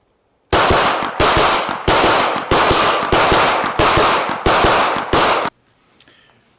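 A Sig Sauer P320 pistol fires eight loud shots in an even, rapid rhythm at a shooting range, each crack ringing briefly before the next, followed by near silence.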